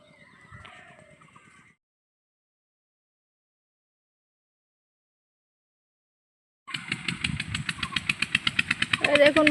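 A farm machine engine at a pointed gourd field starts after a long silence, catching into a loud, steady mid-pitched chug that grows stronger, following brief earlier sound at the start.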